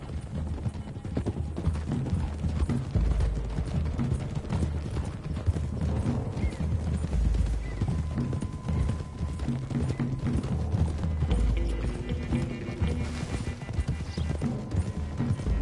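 Horses gallop continuously in the video game Red Dead Redemption 2, hooves drumming in a fast clip-clop rhythm with an occasional whinny, loud and close throughout.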